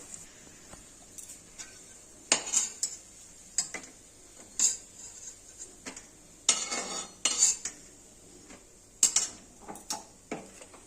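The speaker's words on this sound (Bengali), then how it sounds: "এবার এই বড়াগুলো তুলে নিব।" A metal utensil scrapes and clinks against a pan while fried coriander, coconut and lentil fritters are lifted out, with irregular close clatters and taps over a faint sizzle of oil and no speech.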